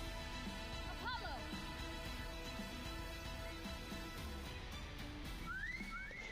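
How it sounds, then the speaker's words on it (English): A character in the game Reverse: 1999 whistles to call a bird: two short rising whistles, one near the start and one near the end, over steady background music and faint narration. "He whistled and a bird flew down from the sky and settled into its nest in the tree."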